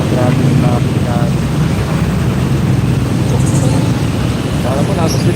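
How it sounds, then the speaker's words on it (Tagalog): Dense road traffic at a busy town intersection in Angono, Rizal gives a steady loud rumble of engines and road noise, with faint horns and voices mixed in, heard from a moving vehicle. "Grabe yung traffic yan."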